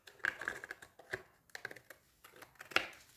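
Pinking scissors cut through paper for a small handmade card, giving a series of crisp, quiet snipping clicks in irregular rhythm, close up with no talking.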